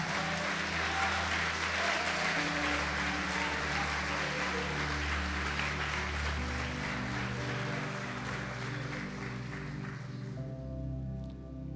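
A congregation at a large church gathering claps in a dense, sustained wave of applause over held keyboard chords, then the clapping thins and fades near the end.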